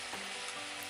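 Murukku frying in a pan of hot oil give off a steady, dense sizzle and crackle, loud and close, with no voices.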